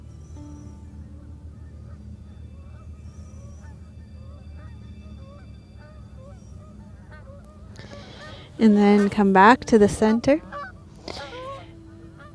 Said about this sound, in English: The Canadian geese, they're honking so loud.